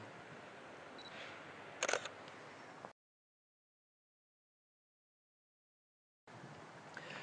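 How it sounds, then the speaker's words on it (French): A single-lens reflex camera's shutter fires once while retaking a photo at a lower exposure value: a sharp, close mechanical click amid quiet room tone, followed by a stretch of complete silence. "Je vais reprendre la même photo."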